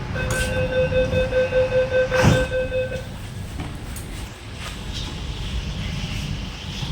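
A metro train in Kolkata's underwater metro hums and rumbles as it pulls away after the doors close, with a brief tonal chime at the start and a steady rolling noise afterward.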